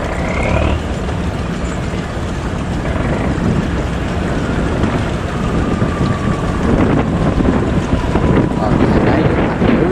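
A cargo boat passes on a river: a loud, continuous engine drone mixed with heavy wind rumble and water noise, steady throughout with no clear speech.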